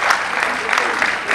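Audience at a Hindi poetry recital clapping, a short dense burst of applause heard up close and filling the whole moment.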